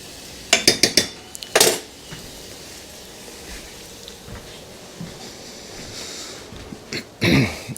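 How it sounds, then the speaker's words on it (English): Dishes clattering while a casserole dish is washed at a sink, a few sharp clinks and knocks at the start and again near the end over a quiet room hum. "We're gonna wash the casserole dish"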